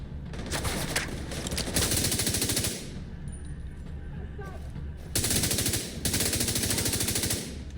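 Rapid automatic fire from a custom P416 assault rifle during a video game firefight, sustained bursts repeating loudly with brief pauses between volleys, over a dense game soundscape.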